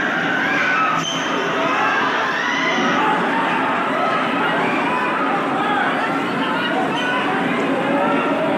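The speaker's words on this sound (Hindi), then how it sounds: "भीड़ बेकाबू हो गई।" An unruly crowd surging at a community health centre vaccination site in Lodhikheda: dense, continuous mixed shouting and chatter from many people, loud and close throughout, with a clatter near the start.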